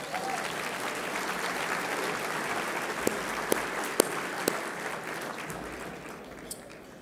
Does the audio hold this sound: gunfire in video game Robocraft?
no